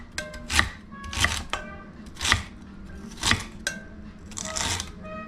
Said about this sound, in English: All right, we're going to chop these up.